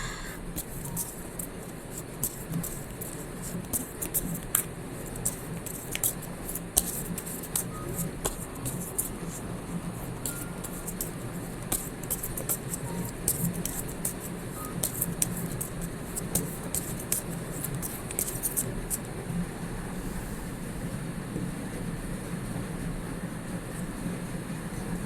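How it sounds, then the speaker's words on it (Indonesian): Heavy rain falls steadily outdoors as a dense, even wash of noise that never lets up, with scattered sharper patters and ticks over a low, continuous rumble. "walaupun hujannya cukup deras di luar"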